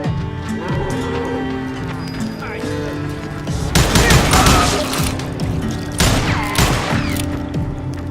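Gunfire in the Gunslinger video game, two loud bursts of rapid shots with clattering horse hooves and a neigh around them, a voice heard in between.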